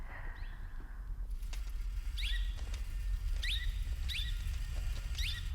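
A canary chirps in the sci-fi film Arrival, a run of short, bright rising-falling tweets repeating about every second over a low, rumbling ambient hum.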